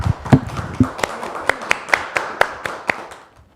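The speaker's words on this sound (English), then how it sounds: "let's all clap for him" A small audience claps for a child, starting with a few heavier mixed claps and settling into a sparse run of sharp, distinct hand claps spaced about every quarter second, fading out at the end.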